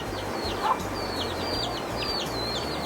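Chickens cluck and call repeatedly in short bursts outdoors, moderately close, over a steady background wash of noise.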